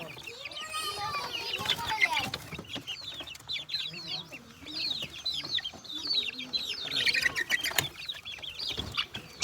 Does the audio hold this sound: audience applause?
no